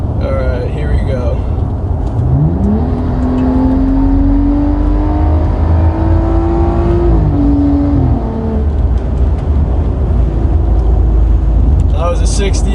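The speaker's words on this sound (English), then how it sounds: "I'm gonna do a 60 roll right here for you guys." A 2011 BMW 535i tuned with a JB4 accelerates hard in a 60 to 80 mph roll, its engine note climbing steadily in pitch and then dropping off, heard from inside the cabin over loud road and wind noise.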